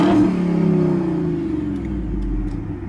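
The engine of a 2010 Jeep Grand Cherokee SRT8 is revved, with a deep close-up rumble that swells at first and then settles back toward a steady idle.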